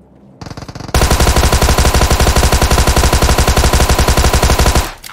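Rapid automatic gunfire in a video game: a brief stuttering burst, then a long unbroken stream of machine-gun shots, loud and close, cutting off abruptly near the end.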